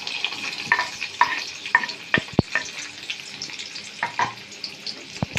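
Onion frying in oil in a kadhai, a close crackling sizzle broken by sharp scrapes and clacks of a stirring spoon in an uneven rhythm.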